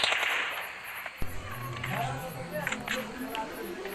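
M4 rifle fire in the mobile battle royale game PUBG Lite, with a few sharp shots amid game sounds and occasional clicks, while someone talks over the action.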